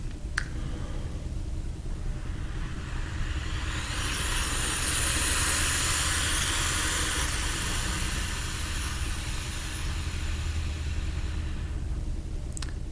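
A steady, breathy airstream is blown out continuously as practice for trombone playing, a constant close hiss that holds evenly throughout, with no other sounds or talk.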